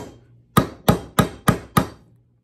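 Five sharp, evenly spaced hammer taps driving the pin out of a Mossberg 20 gauge shotgun extractor, close and crisp with quick decays and no talking.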